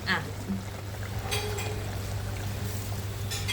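Coconut milk poured into a simmering chemballi (red snapper) fish curry gives a soft, steady liquid pour over a low constant hum, continuous and close throughout.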